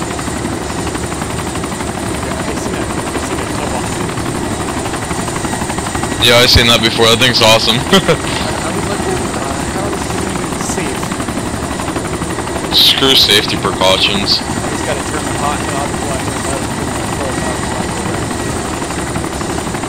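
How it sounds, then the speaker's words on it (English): A helicopter in the survival game DayZ flies in, a loud continuous rotor thump and engine drone filling the whole stretch, with people talking over it at times. "The chopper's coming in, so be careful."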